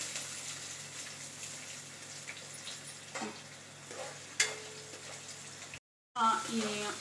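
Onions frying in a pan for egg curry give a steady, moderately close sizzle with soft stirring scrapes, then a brief drop to silence before the frying picks up again.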